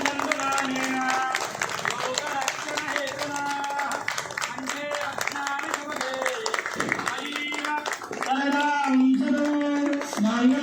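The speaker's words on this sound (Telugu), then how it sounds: "చప్పట్లు కొట్టాలి" Hands clapping in rhythm at a Tulsi Shaligram wedding ceremony held during Kartika month, a steady patter under continuous chanting and voices throughout.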